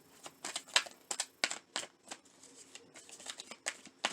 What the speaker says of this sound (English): Looks like I'm doing extra shuffling and not getting more shuffle done.